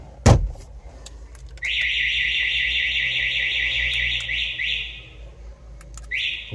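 A Toyota Avensis aftermarket alarm and tracking system goes off after a knock on the dashboard: one sharp thud, then a loud, steady high-pitched electronic siren that sounds continuously, pauses briefly, and starts again.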